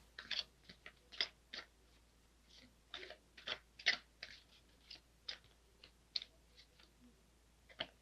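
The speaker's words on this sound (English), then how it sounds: "I was told to keep shuffling, so I will." Tarot cards being shuffled by hand, heard as a run of crisp, irregular riffling and clicking bursts, close and fairly quiet, with no talking.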